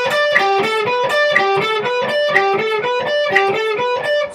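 An electric guitar plays a riff with a string bend through an effects unit, a tight repeating pattern of picked notes in an even, driving rhythm, loud and close with no talking.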